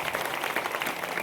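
A burst of dense audience clapping at a Hari kirtan, continuous and fairly loud for its brief length, with no voice over it.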